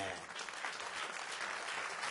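Church congregation applauding in a soft, steady wash of clapping, faint and distant, with voices mixed in beneath it.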